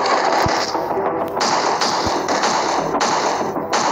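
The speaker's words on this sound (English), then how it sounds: "Gunfire's too loud." A gun turret in the zombie survival game State of Survival fires loud, rapid bursts, with sharp repeated cracks and heavier booming shots rolling together in a dense, continuous barrage.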